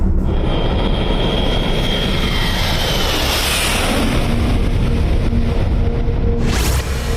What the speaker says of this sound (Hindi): अब देखिए एक और हैवी लिफ्टर IL-76 गजराज